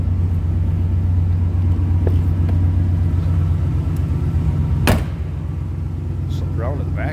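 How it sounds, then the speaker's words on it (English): A 1992 Chevrolet K1500 4x4 pickup idles steadily with a loud, even low rumble. A short bang like a door or latch cuts in near the end, and faint talk is mixed in. "it's nice running, decent sounding truck"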